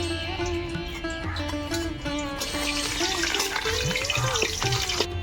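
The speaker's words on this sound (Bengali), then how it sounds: "ফোড়নের জন্য আমি এখানে কয়েকটা শুকনো লঙ্কা তেজপাতা দিয়ে নেব" Dried red chillies and bay leaves sizzle in hot oil as a tempering for a Bengali dish of small native prawns, a steady crackling fry heard close up alongside a tonal background.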